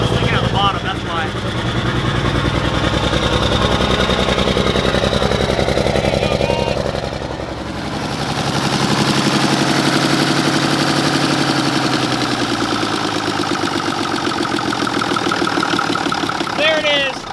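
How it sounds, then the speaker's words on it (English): A Mack truck diesel engine runs steadily and loud, with a rough, knocking idle that carries on throughout, dipping briefly before settling back into a continuous rumble while people talk over it. "There it is. Our Mack motor runs."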